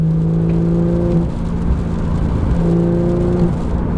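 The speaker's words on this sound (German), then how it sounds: "da geht so langsam die Klappe vom Auspuff auf" A 2017 Porsche 911 GT3 (991.2) engine revs up close as the exhaust flap opens, deep exhaust drone, two rising pulls with a throaty hum, loud and alone.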